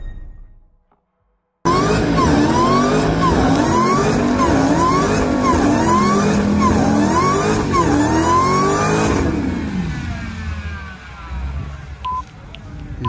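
A Dodge Challenger accelerates hard with a loud, close engine note, climbing through several gears in repeated rising sweeps, then easing off as the sound tails away.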